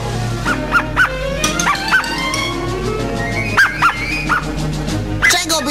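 A cartoon dog barks in short, bright yips and woofs scattered across several seconds, loud and close, over a busy animated soundtrack with music and effects.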